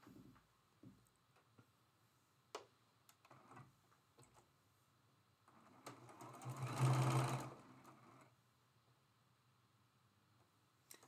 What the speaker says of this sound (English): We're ready to go to the sewing machine. We're going to sew with a 1/4 inch seam on all 4 sides